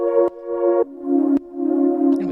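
Sustained synth-like tonal track in Cakewalk by Bandlab, its level ducking and swelling in a pumping rhythm from sidechain compression keyed by a silent kick, with sharp dips between held chords.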